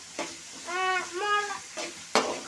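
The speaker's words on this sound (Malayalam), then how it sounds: "സവോള മുളക് ഇഞ്ചി വെളുത്തുള്ളി ചതച്ചത് ഞങ്ങൾ ഇട്ടിട്ടുണ്ട് അത് വാട്ടിയെടുക്കാണ് ഗൈസ്" Sliced onion, chilli and crushed ginger and garlic sauté for chicken curry, a soft hissing sizzle with a few scraping stirs and a brief squeaky tone partway through.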